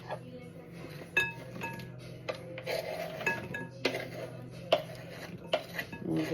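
Chocolate being mixed with a spoon in a bowl for a no-bake cherry ripe slice, irregular clinks and scrapes of metal against the dish, with sharp knocks spaced through a quiet kitchen.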